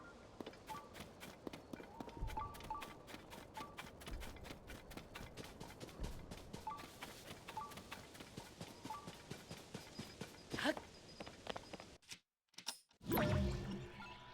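Horse hooves in Zelda: Tears of the Kingdom, a rapid, even clip-clop of riding that runs steadily before breaking off briefly near the end.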